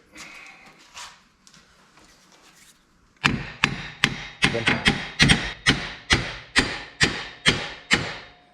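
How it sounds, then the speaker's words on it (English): A hammer taps on the front of a Kia Rio's front wheel hub during a wheel bearing replacement: after a few quiet seconds of faint handling noise, about a dozen sharp metallic blows land close by in a steady, evenly spaced rhythm. "Now, we can tap on the front of this with our hammer."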